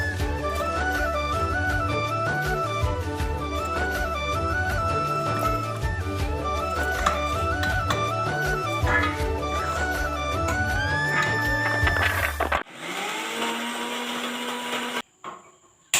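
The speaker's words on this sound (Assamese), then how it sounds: "মিক্সাৰ গ্ৰাইণ্ডাৰত দিব ভাল হ'ব" A mixer grinder grinding coconut pieces for coconut and rice-flour ladoo, a loud steady whirring motor with a rhythmic churning pulse that stops abruptly near the end, briefly restarting.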